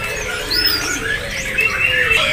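Pet canary singing in a bird kiosk at Pasar Pramuka, a quick run of thin high chirps and warbling trills that rise and fall over a faint low background rumble, close by and fairly loud, with no talking.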